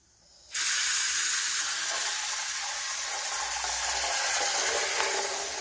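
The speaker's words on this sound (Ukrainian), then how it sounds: "Зараз зараз трошки будемо чекати. Поки набереться у нас водичка." After a quiet moment, a steady broadband hiss of water filling up starts and runs on evenly and close by, without letting up.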